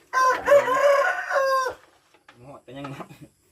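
A rooster crows loudly and close by with one long drawn-out call, followed by shorter clucks and calls from chickens in a flock of about a hundred fowl.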